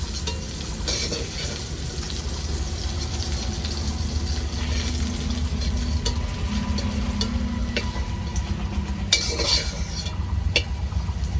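Jackfruit sizzles steadily in hot oil while a spatula stirs and scrapes the pan, with occasional metallic clinks and no talking.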